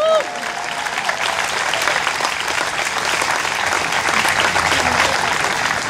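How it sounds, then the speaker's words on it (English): Crowd applause at an outdoor vigil in Rhode Island honoring the Pulse nightclub victims in Orlando, loud and sustained, a thick continuous roar of many hands for six seconds. "You can applaud that."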